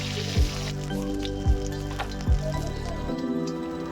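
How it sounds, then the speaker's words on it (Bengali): A rohu fish head fries in oil, giving a dense, continuous sizzle and spatter heard close up, with a few soft thuds as it is moved in the pan, and no talking. "আর এখন বাঁধাকপি চচ্চড়ির জন্য মাছের মাথাটাও ভেজে তুলে নেব।"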